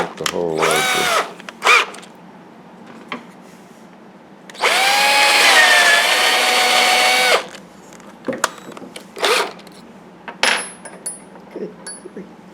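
A power drill bores into a wood carving to enlarge a center hole, one sustained whining run of about three seconds in the middle, with short drill bursts and knocks before and after.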